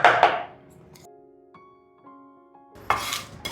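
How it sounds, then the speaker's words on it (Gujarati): Semi-roasted chillies and coriander stems are pounded for a Marathi chutney, with a few heavy thuds at the start and end and a quieter ringing gap between. "હવે સેમી રોસ્ટ થયેલા મરચાં કોથમીના ડંઠલ એને પણ આપણે એની અંદર નાખી દઈએ અને હવે આપણે એને કૂટવાનું ચાલુ કરીએ"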